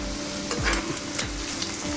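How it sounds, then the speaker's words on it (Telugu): Prawns sizzle steadily in a hot pan, a continuous close frying hiss with a few soft scraping stirs through the two seconds. "చూద్దామండి రొయ్యలు ఫ్రై అయినాయో."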